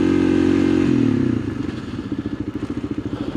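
A motorcycle ridden along a dirt trail, its engine droning steadily up close before settling into a rhythmic pulsing chug with rattles and clatter from the rough ground.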